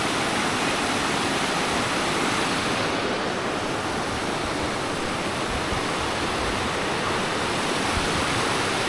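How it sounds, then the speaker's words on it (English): The River Ledra flows at the foot of a steep gorge, its water rushing steadily and loudly. The sound is continuous and broadband, close to the listener, with no voices. "The beautiful River Ledra."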